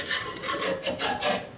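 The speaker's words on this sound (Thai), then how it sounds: "มาล้างกระทะเลย" Rough, rhythmic scrubbing strokes rasp back and forth against a metal pan, close up, in quick repeated passes.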